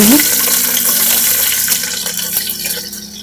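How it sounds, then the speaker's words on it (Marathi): Onions sizzle loudly in hot oil as the tempering for sambar, a steady broadband hiss with crackles throughout, close by and continuous. "कांदा एक मिनिट भर आपण परतून घेऊ"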